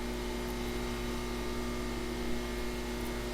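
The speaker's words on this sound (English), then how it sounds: "they constantly emit a hum, and then these orbs will like commence a kind of a higher pitched hum, kind of sound like slight sparking" Lasers in an Unreal Engine 4 video game give off a constant electrical hum, a steady buzzing drone that stays even throughout with no voices.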